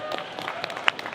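A small live audience at a comics panel gives brief, scattered applause, a handful of claps rising and fading within about a second.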